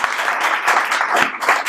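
An audience at a French business-creation award ceremony applauds, a dense burst of many hands clapping close and loud, steady throughout the short stretch with no speech over it.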